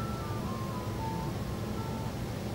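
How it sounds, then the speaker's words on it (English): An ice cream truck plays its faint, tinkling jingle melody at a distance, the thin tune drifting over a steady wash of outdoor background noise. "An ice cream truck?"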